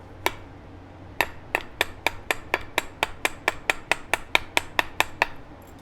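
Flint knapping, a tool tapping along a flint edge to trim it: a single sharp click, then a steady run of about eighteen evenly spaced crisp taps, close and distinct with no talk.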